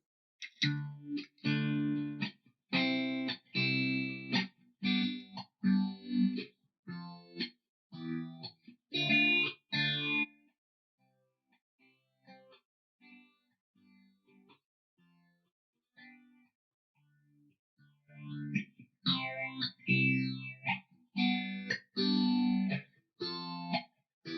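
Electric guitar played through a Boss PH-3 phaser pedal, bursts of strummed chords with a quiet stretch of sparse notes in the middle, swirling modulation throughout.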